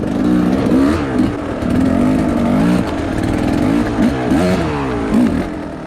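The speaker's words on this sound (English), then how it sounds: "Why does my bike sound so loud? I think the O-rings on the exhaust pipe, something happened." Beta enduro motorcycle with a damaged, leaking exhaust at a hard enduro race, its loud engine revving and rising in repeated surges on a side hill, close and continuous with no talk.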